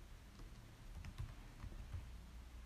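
Typing on a computer keyboard, a steady run of soft, close keystroke taps at an even pace with no talking.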